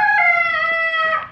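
A single rooster crow, loud and close, a bright drawn-out call lasting just over a second.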